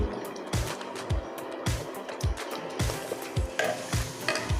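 Thick Kerala spice paste for pumpkin erissery bubbles and spits in a pan, with a steady sizzle broken by repeated low plopping bursts every half second or so, close and fairly loud, no talk.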